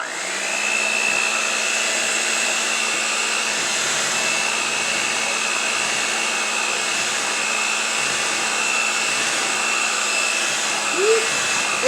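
An electric mixer whirs steadily through coconut pound cake batter, a loud, even motor drone with a high whine that runs unbroken for about twelve seconds, ending in a faint clink.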